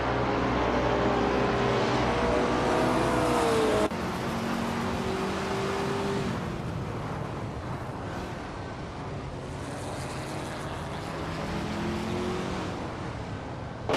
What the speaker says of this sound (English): Everlasting Apex is driving a 1968 Porsche 908 LL8 Coupe, which is known for its balance and speed